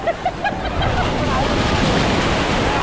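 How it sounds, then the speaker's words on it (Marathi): Sea waves washing onto a beach in Goa, a steady broadband surf roar with some wind buffeting across the whole stretch, close and fairly loud. "समुद्र किनारी लाटा"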